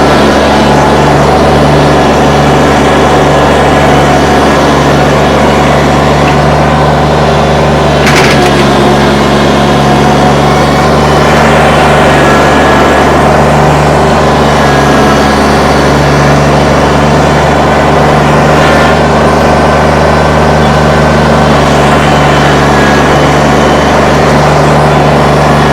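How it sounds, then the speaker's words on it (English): A 2019 Kubota BX2380 sub-compact tractor engine hums steadily, continuous and loud throughout, with a constant low drone and a few brief sharper noises partway through. "Tractor starts, runs, and works great."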